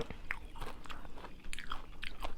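Close, crisp bites and crunches of an oil-free, crispy baked chili snack come in a handful of sharp, irregular snaps with soft chewing between them.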